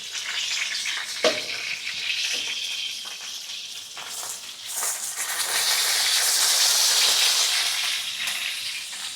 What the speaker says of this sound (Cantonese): 矮瓜煎到咁樣啦，全部金黃色搞掂